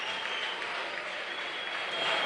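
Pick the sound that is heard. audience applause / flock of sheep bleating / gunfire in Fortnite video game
audience applause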